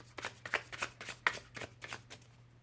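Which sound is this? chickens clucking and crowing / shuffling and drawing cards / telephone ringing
shuffling and drawing cards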